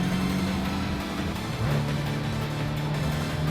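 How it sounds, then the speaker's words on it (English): A car engine in the Tokyo Xtreme Racer video game holds a steady mid-pitched drone, dipping briefly around a gear change before settling back to a constant tone, loud and continuous with no talking. "Quite like the little spike in revs when you change gear"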